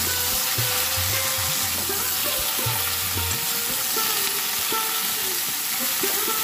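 Cauliflower frying in a pan, cooked as bhon for an offering, gives a steady, fairly loud sizzle with recurring scraping stir strokes and low rumbling clatter throughout, no voices.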